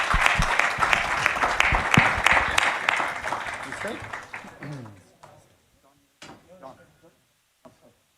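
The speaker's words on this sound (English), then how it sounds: "Please join me in giving him a big round of applause." An audience at a US-India business forum on Amaravati as an AI capital applauds a speaker: dense, loud clapping for several seconds that thins out to scattered claps and silence.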